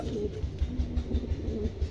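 A female Checker Strasser pigeon cooing in low, rhythmic pulses, close and steady across the whole stretch, with no talking.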